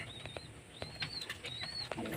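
A pair of pet pigeons shuffle and flap their wings nearby in a few quick, soft fluttering bursts, with light cooing notes and no talk.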